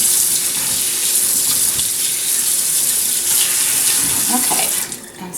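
Water from a kitchen tap runs steadily into a sink as turkey tenderloins are washed, a loud continuous splashing rush that eases off near the end.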